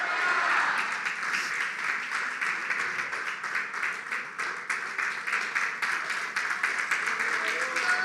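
A church congregation stands and claps loudly in a steady wash of applause that lasts throughout, with voices mixed into the clapping.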